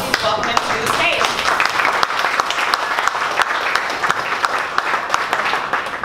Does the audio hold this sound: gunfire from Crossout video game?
no